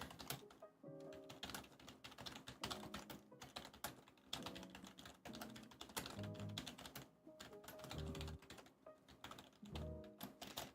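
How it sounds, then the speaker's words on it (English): Rapid typing on a computer keyboard, dense irregular bursts of clacking keystrokes close to the microphone, with short pauses between runs and no voices. "Why am I typing that there?"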